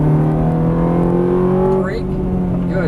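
A Ferrari 430 engine on a race track revs up steadily with a loud, rising tone, drops briefly, then builds again, while an instructor talks over it.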